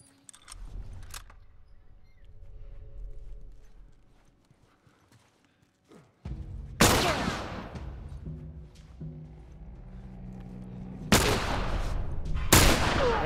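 Gunfire in The Last of Us Remastered, several loud, sharp blasts in the second half with quieter game ambience and rattles between them, no one speaking.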